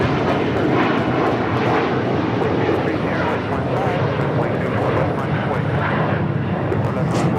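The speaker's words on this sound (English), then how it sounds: "It was Air China Flight 988 heading to Beijing and the 777-300ER taking off on the 24 left there on the north side." An Air China Boeing 777-300ER takes off from runway 24L at Los Angeles International Airport with a loud, sustained jet roar, while a voice talks over the noise.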